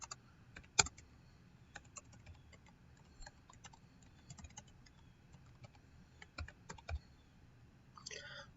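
Computer keyboard typing a MySQL query: scattered clusters of sharp, close key clicks with irregular rhythm and short pauses, fairly quiet over faint room hiss.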